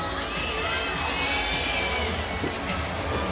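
A crowd in a college gymnastics arena cheers after a 9.95 floor score in a steady roar of shouts and high voices that carries on throughout.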